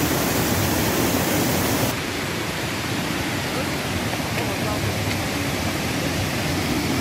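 A flooded river rushes past a culvert blocked with ice, making a loud, dense, unbroken roar of water that fills the scene from start to finish.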